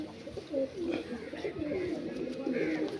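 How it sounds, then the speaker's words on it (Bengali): An Andhra breed pigeon gives low, repeated cooing close by in a pigeon house, with faint voices in the background. "এ হচ্ছে পায়রা"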